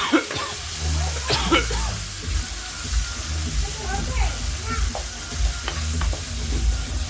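Spice paste being sautéed for a Bengali katla fish curry with potato and cauliflower crackles and hisses steadily under repeated stirring scrapes, close and fairly loud, with a voice faintly present underneath.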